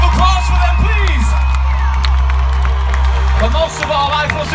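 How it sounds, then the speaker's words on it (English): Concert crowd in Perth at a show cheering, whooping and clapping loudly and continuously over sustained music, with a voice shouting over the din. "Let me hear a round of applause for them, please."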